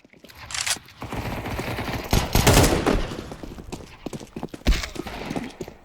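Gunfire in Counter-Strike 2's arms race gun game mode: loud, close shots in irregular bursts and single cracks, with a heavy volley in the middle.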